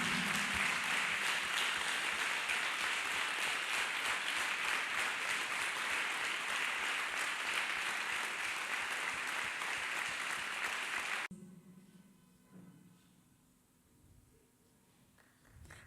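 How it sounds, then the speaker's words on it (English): A church congregation at a healing service claps hands in loud, rhythmic unison for about eleven seconds, then the clapping cuts off abruptly, leaving a quiet room with faint murmurs. "Clap hands for the master deliverer."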